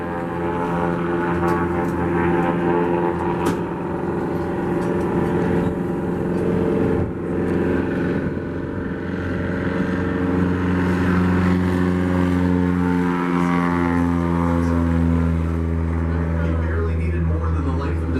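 A small float plane's propeller engine runs steadily and loud nearby, its droning hum shifting pitch as it revs up over time.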